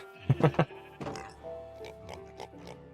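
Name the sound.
pigs oinking in a video game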